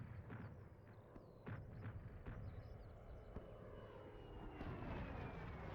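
Piston engine of a Bf109F-4 fighter with armored headrest in a flight game, a steady broad drone that stays loud and even throughout, with faint higher whistling tones drifting above it.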